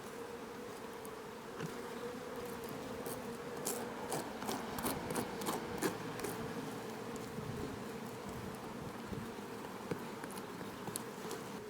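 Honeybees hum steadily around an open hive in a close, continuous buzz, with faint scratching and tapping sounds scattered throughout.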